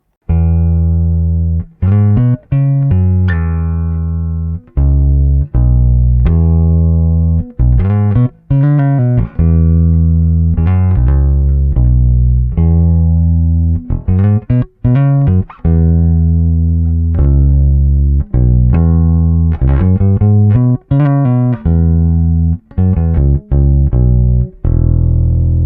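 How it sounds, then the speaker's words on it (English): Bass guitar with new strings plays a slow, sustained bass line, long held notes ringing out one after another with brief gaps between them, loud and close with no voices. "this time with a slow bass line with lots of sustain"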